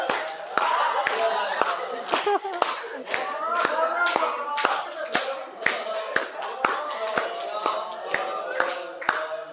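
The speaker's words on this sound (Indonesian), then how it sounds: "Oke, tepuk tangan." A school class in Indonesia claps hands together, sharp distinct claps in a quick uneven rhythm, close and loud, with children's voices faintly underneath.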